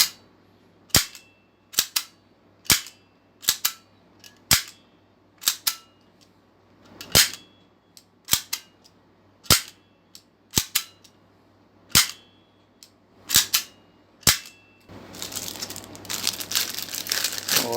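Full-metal toy gun lighter firing repeatedly: about fifteen sharp, loud clacking snaps at a steady, roughly one-per-second pace, close up, followed by a short burst of rustling noise at the end.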